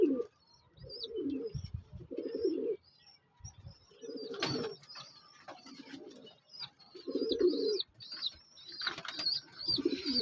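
Pigeons coo in low, rounded bursts several times, close by and fairly quiet, with wing flaps and faint chirps between the calls.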